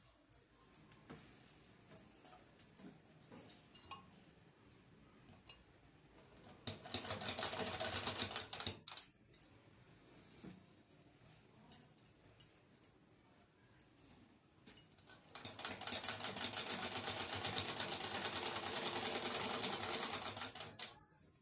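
A sewing machine runs the main measured seam on a size 42 katori blouse in two long, loud stretches of fast, even whirring stitching, with quieter clicks and handling of cloth between them.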